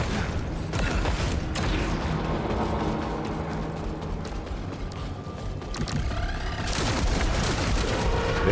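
Rapid bursts of gunfire from a gun in the video game Saros, dense and loud throughout alongside mechanical clanks and booming game effects, with no talking.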